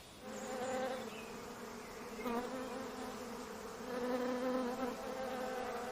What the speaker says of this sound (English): The sound of bees is the sound of spring